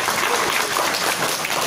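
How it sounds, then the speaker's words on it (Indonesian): A crowd gives a round of applause at an ibis Makassar City Center event honoring teachers from 1000 Guru Sulsel, dense, steady clapping from many hands filling the room. "Tepuk tangan dulu."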